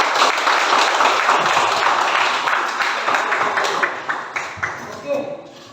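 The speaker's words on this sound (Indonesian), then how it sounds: "Beri aplaus dulu." A classroom audience applauds a group presentation with a dense burst of clapping that thins into a few scattered claps before stopping.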